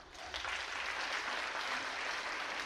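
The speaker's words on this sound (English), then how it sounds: "We can clap for this now." Steady applause from an athletic banquet crowd, a dense even wash of claps honoring a player, with no talk over it.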